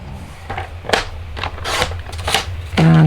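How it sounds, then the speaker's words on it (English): A paper trimmer cutting a piece of paper, several short crisp slicing and sliding strokes close by, with a brief hum near the end and faint handling noise. "I'm going to grab my trimmer again, and I'm going to cut it off at 5 this way"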